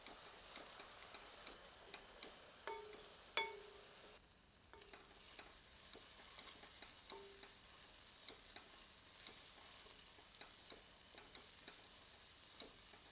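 Onion with ginger-garlic paste frying in a pan, a soft steady sizzle with scattered ticks and stirring clinks, moderately faint and alone with no talking.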